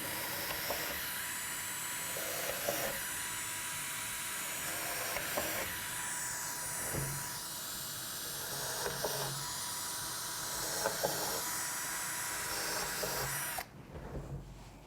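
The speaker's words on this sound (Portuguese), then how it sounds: "vou finalizar a furação" Electric drill boring holes while building a bookshelf, a steady whirring hiss with repeated bursts as the bit bites, moderately close, stopping abruptly near the end.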